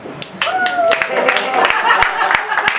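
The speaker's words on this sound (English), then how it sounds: "That's where you guys clap." Scattered clapping from a small audience at an open mic comedy show, a few sharp, uneven claps under the comedian's ongoing talk and some crowd murmur.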